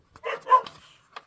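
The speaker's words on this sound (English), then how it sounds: "sorry for the puppy barking" A puppy gives a few quick, high yapping barks close by, two bunched together and then a short final yip, with quiet gaps between them.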